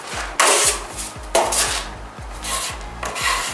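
A trowel scrapes drywall mud across a wall during a second flat coat, giving repeated broad rasping strokes, each with a sharp onset and a sustained smear, close and fairly loud, with no voices.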